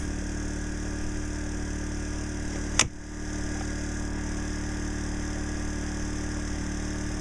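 A Champion 2000W generator with economy mode off drones at a steady, even hum from nearby, broken once by a single sharp click before the running continues unchanged.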